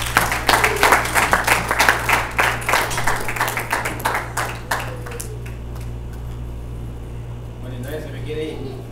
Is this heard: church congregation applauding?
yes